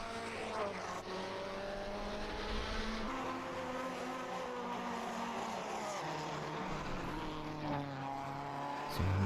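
Wet-weather racing in a 1950s Grand Prix video game at Napoli, with powerful, low-grip cars whose steady engine drone fills the whole stretch, rising and falling in pitch through gear changes as the cars pass.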